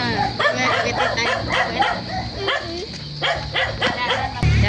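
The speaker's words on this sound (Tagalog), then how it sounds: "Maingay po yung aso." An excited pet dog barks and yips in quick repeated bursts, close and loud, amid cheerful voices as family members arrive home.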